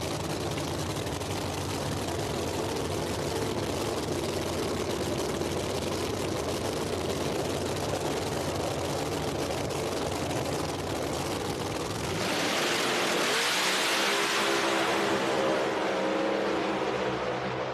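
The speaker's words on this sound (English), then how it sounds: "Kai Kelly makes a great pass there in that right lane" No prep drag race cars at National Trail Raceway roar down the track, a long sustained engine blast that then gives way to a louder, brighter surge with a low rumbling tail, heard from a distance.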